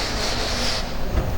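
A duster rubbing writing off a classroom board, a brief, close, continuous scrubbing rasp.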